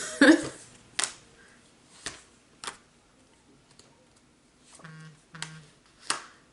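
A phone notification gives a short two-tone chime near the end. Scattered clicks and taps sit before and around it in an otherwise quiet room.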